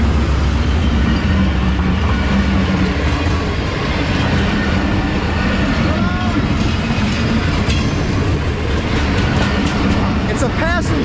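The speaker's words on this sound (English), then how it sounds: "It's a passenger train" A passenger train rumbles past close by, loud and steady, with clattering wheels and rushing wind throughout.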